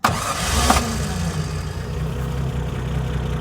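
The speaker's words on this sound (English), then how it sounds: "the freshly rebuilt engine comes into life" A freshly rebuilt Triumph GT6 engine cranks and catches, then settles into a steady idle rumble close by.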